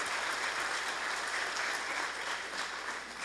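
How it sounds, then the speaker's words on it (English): A church congregation applauds an anniversary couple, a sustained roomful of clapping that stays fairly even and begins to thin slightly toward the end, with no speech on top. "Let's give them a round of applause."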